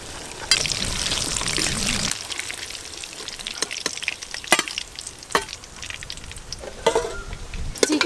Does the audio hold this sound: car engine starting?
no